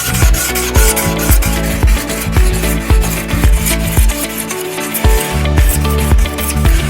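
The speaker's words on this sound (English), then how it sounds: "use a piece of styrofoam to sand our edges" A piece of styrofoam rubs and sands the edges of a peep craft figure in a steady, loud, close scraping rhythm of repeated strokes, with no talking.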